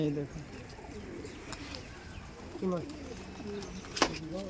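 Giribaj pigeons coo at a loft, several soft rolling calls rising and falling over a busy outdoor background, with people talking nearby and a brief sharp sound near the end.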